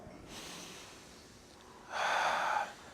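An audience drawing a collective breath in a hall, a soft inhale followed by a louder, fuller breathy exhale lasting under a second, with no talking.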